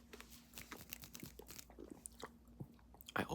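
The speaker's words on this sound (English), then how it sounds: "I always crunch up the cough drops before they're gone." A hard candy cough drop is crunched and chewed close up in an ASMR setting, with irregular sharp cracks and soft mouth sounds, quiet and intimate, with no talking.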